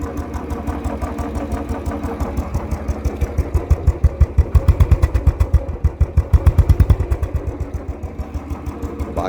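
A stock-exhaust Royal Enfield Standard 350 single-cylinder engine idles close by after a half-kick start, with a steady, loud thumping beat that swells in the middle and holds even to the end, with no talk.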